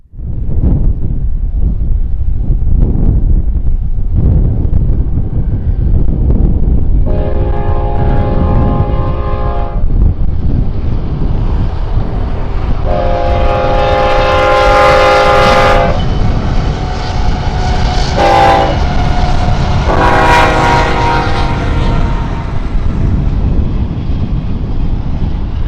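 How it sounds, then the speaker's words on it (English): An eastbound BNSF intermodal freight led by four GE locomotives rumbles past along the old Santa Fe route, sounding several long, loud horn blasts over heavy engine roar, rail noise and wind buffeting. "Our final train of the day would be an eastbound intermodal running through with a 4-pack of BNSF"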